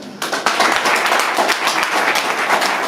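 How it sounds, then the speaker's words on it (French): An audience at a hacking-night opening breaks into a burst of applause, dense and sustained clapping filling the room for a few seconds. "Ça peut s'applaudir."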